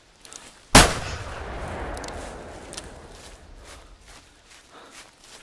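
A single loud gunshot from the hunting video game theHunter Classic, a sharp blast followed by a long rumbling echo that fades over several seconds, with no talking.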